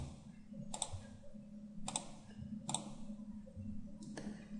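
A computer mouse clicks while working in Inventor 3D CAD software, four crisp separate clicks spaced about a second apart over a faint low hum.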